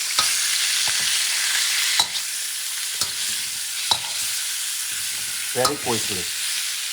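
Vegetables stir-fry in a hot pan for a Thai stir fry, with a steady loud sizzle broken by sharp stirring scrapes about once a second, and a brief spoken remark near the end.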